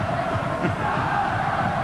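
A rugby league stadium crowd at Castleford v Wigan lets out a sustained roar, a dense wash of many voices filling the air without a break.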